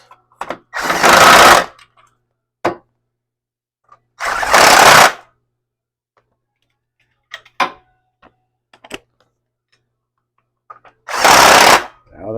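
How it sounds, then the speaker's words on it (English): Passenger-side subframe mount bolts on a 1989-1997 MN12 Thunderbird or Cougar being tightened during an AJE tubular subframe install: three loud bursts of impact-wrench rattle, each about a second long, separated by scattered clicks and taps of tools. "now we're going to tighten up the passenger side mount bolts"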